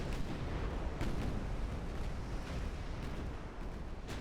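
Torpedo hits striking ships in the naval strategy game Ultimate Admiral Dreadnoughts, a dense rolling rumble of overlapping distant booms and bursts with a few sharper impacts standing out.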